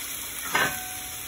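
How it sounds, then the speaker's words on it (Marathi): Bombay duck fish laid into hot oil, a brief soft sizzle rising over a quiet pan hiss. "आपण हे तेलामध्ये फ्राय करूया"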